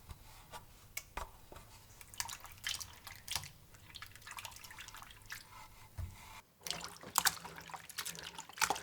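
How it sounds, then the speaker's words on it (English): Thinly sliced potatoes being rinsed under running water to wash off starch, heard as a faint, uneven patter of drips and trickles with small splashes scattered through the clip. "Rinse the thinly sliced potatoes under running water until the starch is washed away."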